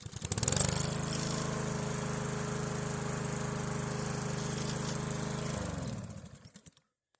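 An old lawn mower engine pull-started into life, firing up with a rapid chugging putter that holds steady for several seconds, then sputters and dies away into silence, with no talking.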